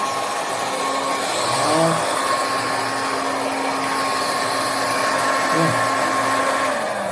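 A Fakir hair dryer runs steadily up close with an even, airy whir, holding constant and briefly shifting pitch as its setting changes.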